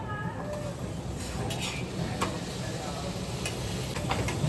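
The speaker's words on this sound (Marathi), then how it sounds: "आपण या मसाल्यामध्ये हे बटाटे टाकणार आहोत." Potatoes tipped into masala in a pan for a soybean curry, a steady low sizzle with stirring scrapes and light clinks of the spoon against metal.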